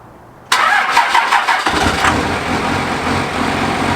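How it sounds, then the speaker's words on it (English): A truck engine cranks briefly and catches, then settles into a loud, steady idle close by. "I'm going to hop in the truck real quick, start it up"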